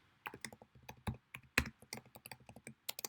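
Fingers type code on a computer keyboard in a quick, uneven run of distinct key clicks, close and alone.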